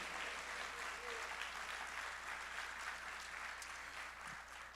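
A church congregation applauding during a family service, a steady wash of many hands clapping together, heard faintly and at a distance, that keeps going without a break.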